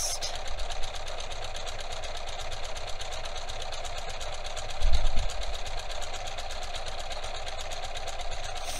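A sewing machine stitching a hem on a top runs steadily and close for the whole stretch, a fast even whir of the needle with a brief louder bump midway.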